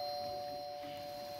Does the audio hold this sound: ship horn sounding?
no